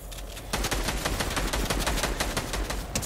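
Rapid automatic gunfire rattles in close, dense bursts in Fortnite, loud and continuous after a brief quieter start.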